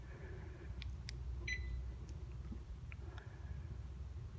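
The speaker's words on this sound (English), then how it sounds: "I like the way it beeps at me" A 2007 Mercedes-Benz SL550 roadster gives short electronic beeps as its key unlock button is pressed repeatedly, several brief chirps spaced over a steady low rumble of background noise.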